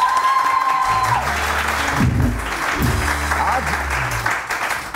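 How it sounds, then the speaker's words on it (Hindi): Studio audience on a morning TV show applauds a guest, a dense steady wash of clapping over the whole stretch while music plays underneath. "बहुत सारी तालियां"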